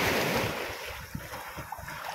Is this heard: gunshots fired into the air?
no